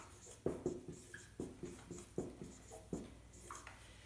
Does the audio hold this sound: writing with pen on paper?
yes